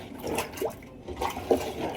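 A liquid organic farming mixture sloshes and swirls in a container as it is stirred, with soft, uneven watery swishes repeating at a moderate pace and no speech.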